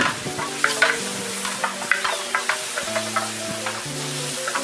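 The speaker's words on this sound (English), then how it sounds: "here's the last two on, grilling away." Fajitas sizzling on a grill with a steady crackling hiss and scattered pops, accompanied by low tonal background music, close and continuous.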